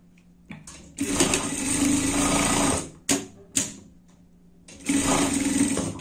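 Sewing machine stitching a seam on a tiger-print pet garment, running in loud, close bursts of rapid whirring, briefly stopping and restarting twice in the middle, with no talk.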